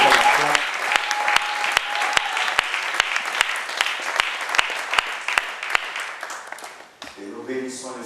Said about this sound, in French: J'aimerais qu'on acclame.